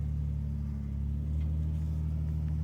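A vintage Jeep's engine rumbles low and steady while climbing a rocky V-notch on a Nevada trail, holding a constant near drone without talk.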